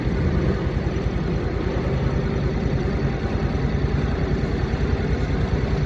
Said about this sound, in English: My bike is still running